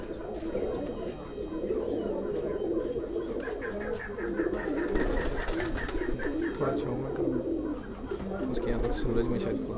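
A pet pigeon from a fancier's loft in Quetta coos steadily and close by, its soft rolling calls continuing beneath someone talking throughout.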